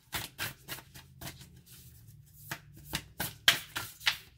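Tarot cards riffled and drawn by hand in quick, close bursts of papery flutter, soft and near, with short pauses between shuffles.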